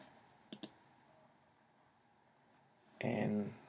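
Two quick mouse clicks land close together near the start while someone works in Xcode, followed by a stretch of quiet room tone before a voice begins speaking at the end.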